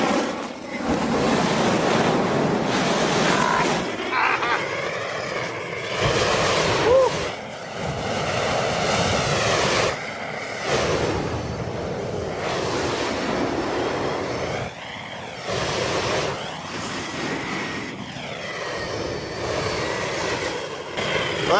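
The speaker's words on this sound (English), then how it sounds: "They're good for shooting snowflakes out of the sky." A flamethrower fires into falling snow in a cold blizzard, loud close roaring blasts of flame coming in repeated bursts with short breaks between them.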